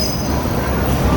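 A New York City subway train gives a loud, continuous rumble with a high metallic squeal of wheels on rails, heard from close by throughout.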